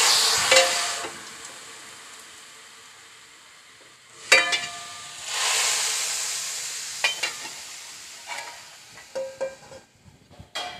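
A tadka of white cumin seeds and whole dried red chillies sizzles in hot oil, then is poured into pakoda kadhi, giving crackling bursts and a loud sharp hiss followed by scattered pops and clinks.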